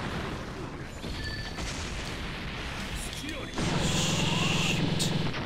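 Deidara's detonation explosion in the fighting game Naruto Battle Climax, a sharp loud burst that opens into a sustained crackling roar over busy game effects, with someone talking.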